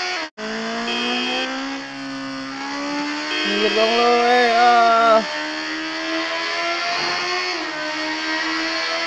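A Suzuki Hayabusa motorcycle engine whines and revs up in rising pitch, easing off then climbing again, with a voice speaking briefly over it.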